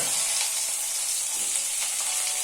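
Steady, dense sizzle of food frying in oil on a low flame, for a Karnataka-style jackfruit seed and banana curry, continuous and close with no talk.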